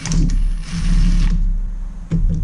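A torque wrench set to 14 foot-pounds snugs up the engine bolts on a Yamaha BWS scooter with a Minarelli engine during a rebuild, giving short close mechanical ratcheting clicks with a brief pause between them.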